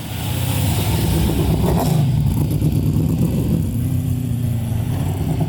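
A 900 hp NASCAR engine in a 1970 Plymouth Cuda rumbles loudly and steadily throughout, with a deep low roar that swells slightly as it revs, close by and with no voices.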